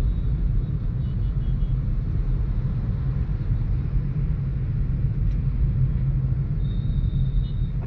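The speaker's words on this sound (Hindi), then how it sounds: "देखिए कितनी गाड़ी जा रही है।" Steady traffic on a Bangalore highway near the airport, heard from inside a moving car as a continuous low rumble of engines and road noise with no distinct individual pass-bys.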